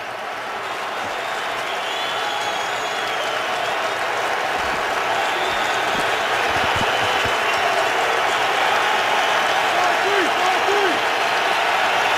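A stadium crowd at an NFL game, 49ers at Giants, roars steadily as fans rise for a third-and-11 play, a loud, dense wall of cheering that holds and swells slightly over twelve seconds with no talk.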